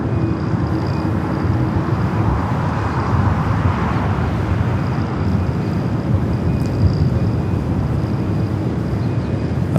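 A United Boeing 757 jet at LAX airport roars steadily, a broad, loud, continuous engine rumble with no pauses and a faint high whine riding on top.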